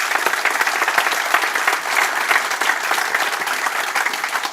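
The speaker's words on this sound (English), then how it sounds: "So actually a round of applause for the AV team" A room full of people at an event's closing remarks breaks into steady, dense applause that holds at a fairly even level for several seconds, with no voices on top.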